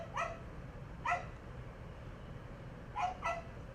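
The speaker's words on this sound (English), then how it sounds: "It's almost a very whiny bark, like please, please don't leave me." A dog gives four short, whiny barks in two pairs, the first pair spaced apart and the last two close together, each high and pleading, over a low steady background hum.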